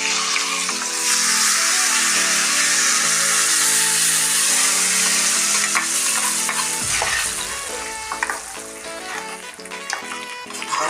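Loud, steady frying sizzle from a mango pulissery curry as an ingredient is added to it, with clinks and stirring noises as the sizzle settles toward the end.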